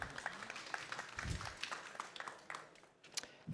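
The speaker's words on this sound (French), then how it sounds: "Ça veut dire applaudissez." An audience at a regional water-preservation conference applauds, a soft, scattered patter of clapping from a room full of people, fairly distant and fading slightly toward the end.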